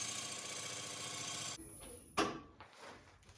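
Wet wood spins on a lathe under a gouge, a steady droning whir with a cutting hiss that stops abruptly partway, followed by a thump and quieter handling noises.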